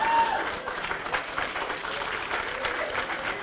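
Audience applause at a Hindi comedy poetry show held at a college, dense and fairly loud clapping from a crowd that carries on steadily and fades slightly toward the end.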